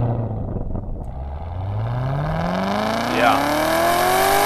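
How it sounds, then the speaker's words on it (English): A 2019 Chevrolet Corvette ZR1 supercharged V8 rising in pitch as it revs up after starting, its exhaust note climbing steadily and loud at close range, with a brief spoken word from a person. "Here's that sound clip of the exhaust."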